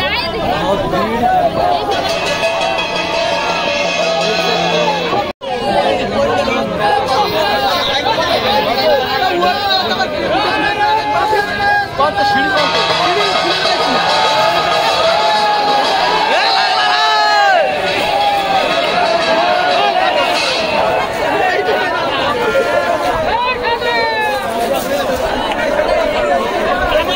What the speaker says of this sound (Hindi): बहुत भीड़।